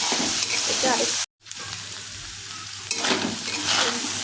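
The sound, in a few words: frying and stirring on low flame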